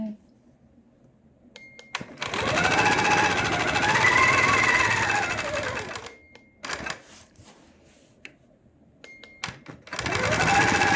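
A sewing machine runs at high speed while quilting, stitching in a few sustained bursts separated by short pauses with light handling noises; close and loud, with no talk over it.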